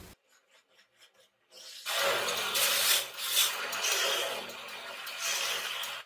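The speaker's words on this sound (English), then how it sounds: "He's just using the sandpaper on it." Sandpaper rubbed back and forth over a wooden cricket bat in a bat-making factory, a steady close rasping scrape lasting several seconds after a few faint taps.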